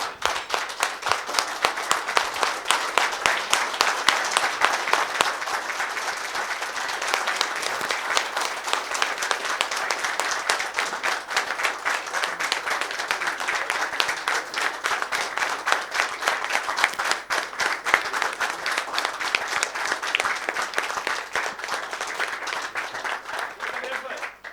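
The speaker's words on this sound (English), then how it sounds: "I think we all probably should give him a standing ovation." A large audience at an award ceremony gives a standing ovation for a lifetime achievement honoree, with dense, sustained applause that stays loud and steady across the whole stretch.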